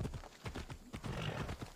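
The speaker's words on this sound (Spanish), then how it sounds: "Bueno, un caballo que se llama Spiro" A horse gallops in Assassin's Creed Odyssey, giving quick, rhythmic hoofbeats that sound close and steady over a short stretch.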